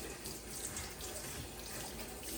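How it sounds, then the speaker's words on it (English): Water runs steadily from a sink tap while a houseplant pot is rinsed, a continuous close splashing rush with no talk. "So I try to kind of rinse it over on the other side of the sink."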